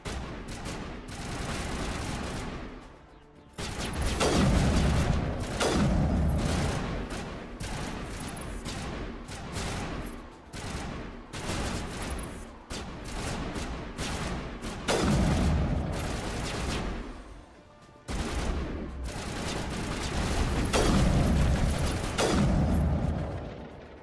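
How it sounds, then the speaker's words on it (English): Continuous video-game gunfire fills the clip, with dense rattling volleys and booming shots in long loud stretches broken by brief pauses. "What the heck are you guys shooting at?"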